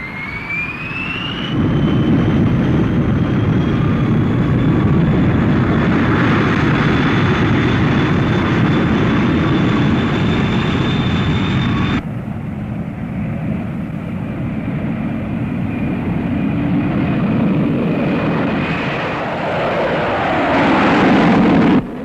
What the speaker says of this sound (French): Vol expérimental numéro 6. Demandons autorisation de décoller.